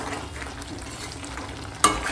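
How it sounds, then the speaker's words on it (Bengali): Rohu fish head curry with vegetables being stirred and turned in a pan, a soft continuous frying hiss with a sharper scrape or clatter near the end, close and alone without talk. "এই মুড়োর তরকারিটা এখন একটু আমি ঘেঁটে দিচ্ছি, উপর নিচ করে দিচ্ছি"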